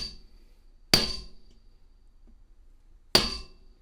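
A hammer strikes a brass snare drum shell twice, about two seconds apart, each a sharp, ringing metallic hit that decays quickly into near silence.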